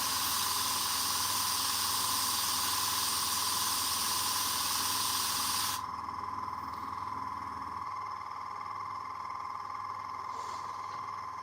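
An airbrush sprays paint onto a fantasy Warhammer miniature with a soft, steady hiss and a faint tonal whine, the spray easing lower partway through and continuing quietly.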